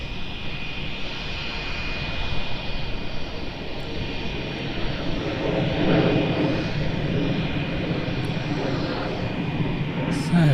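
A Jetstar airliner at Melbourne Airport gives off a sustained jet engine rumble with a steady high tone on top. The roar swells slightly toward the middle and stays moderately loud, with no clear talking.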